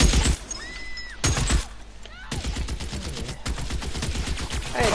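L.A. Noire gunfire: sharp, loud shots burst out in rapid clusters, with rattling volleys and crashes, separated by brief lulls.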